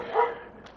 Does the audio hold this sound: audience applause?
no